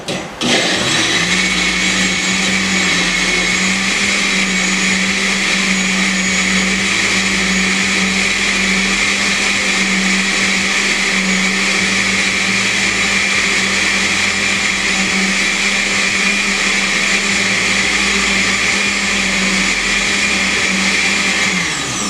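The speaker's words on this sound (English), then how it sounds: "we're just going to blend them for a few seconds" A countertop blender whirs through peeled almonds and water, a loud, steady motor roar with a high whine that starts abruptly and runs without a break for about twenty seconds before cutting off.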